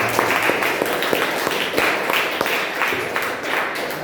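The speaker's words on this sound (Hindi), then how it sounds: "उनके लिए जोरदार तालियां" Loud, continuous applause from an audience at a religious seminar held at Shri Bhagwan Mahavir Siddhayatan, a thick wash of many hands clapping at once, steady throughout and close.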